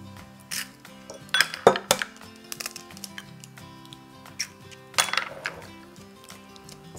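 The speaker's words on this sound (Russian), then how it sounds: "Теперь добавляю сюда яйца." Eggs go into cake batter in a bowl. Sharp clinks and taps of shell or utensil against the dish come in short clusters, then the sound eases to quieter handling. No one speaks.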